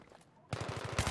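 Rapid automatic gunfire in Battlefield 3 during a competitive 8v8 match, a silent half-second then a steady burst of evenly spaced loud shots to the end.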